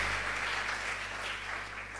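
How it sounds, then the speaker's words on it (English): Audience applause at a talk show, a steady sustained wash of clapping from many hands over a low electrical hum. "I think that we should all applaud Prof for trying"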